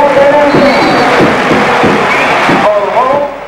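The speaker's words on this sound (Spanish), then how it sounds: "¿Por primera vez sentís la ovación de la gente para con vos?" A large football stadium crowd roars and cheers loudly in an ovation throughout, a dense wash of voices with rising shouts.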